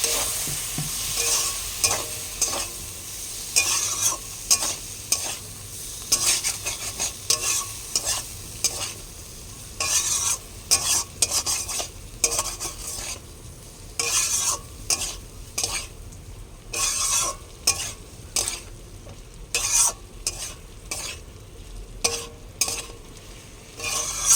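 Onions, spices and turmeric with a splash of water are stirred over low heat for a kudri (ivy gourd) korma, a repeated scraping of spatula on pan in quick irregular bursts over a constant low sizzle.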